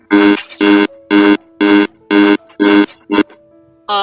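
Timer alarm sounding at the end of a debate turn: seven loud, evenly spaced electronic beeps about half a second apart, the last cut short, heard alone with no talk over it.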